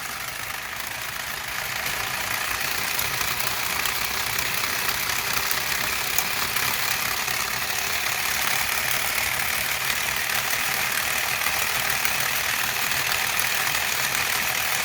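A 3D-printed Newman motor running on 12 volts gives a steady, continuous mechanical whir and hum that holds even and unbroken throughout, close by with no talking.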